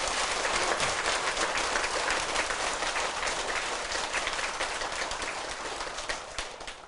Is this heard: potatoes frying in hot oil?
no